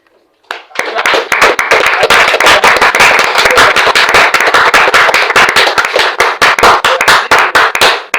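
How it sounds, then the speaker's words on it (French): A congregation at a French-language church service applauds and acclaims: loud, rapid, sharp hand claps that begin suddenly and keep up a dense, steady rhythm throughout, with voices mixed in. "On acclame"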